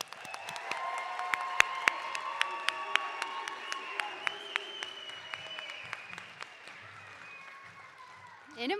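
An audience at a commencement ceremony for a HEP and adult education graduating class applauds steadily, with sharp individual claps standing out near the front and cheers mixed in. The applause fades toward the end.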